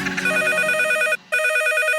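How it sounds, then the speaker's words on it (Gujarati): Telephone ringing with a loud electronic trill, two close bursts of ring separated by a brief gap. "ફોન આવ્યો કાકા"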